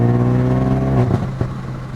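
Ford Focus RS engine accelerating hard in racetrack mode, a loud close harmonic engine roar that climbs, then breaks up with a brief gear-change dip and continues.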